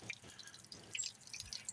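Warm cooling water drips from a garage-find Johnson Seahorse outboard motor fitted with a modified cooling kit, a few faint, quick, irregular drops close by in a quiet space.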